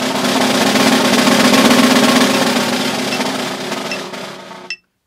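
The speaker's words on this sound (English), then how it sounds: "Versus a 6, it would sound like this." Snare drum roll in sextuplets for a concert band etude, a dense continuous buzzing patter held for several seconds, close and loud, with no talk, before cutting off sharply.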